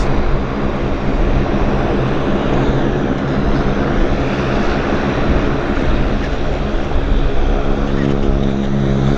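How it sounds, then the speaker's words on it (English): A Convair 580 propeller plane runs its engines during an engine test at Vancouver airport, a loud, steady droning roar and rumble, close by, with no break. "they're testing the engines on this airplane. That's why it's so noisy"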